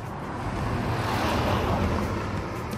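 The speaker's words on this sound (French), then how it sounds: "attention, voiture derrière" A car passing close behind on a road makes a soft, broad whoosh that swells and fades over about three seconds, with no voices.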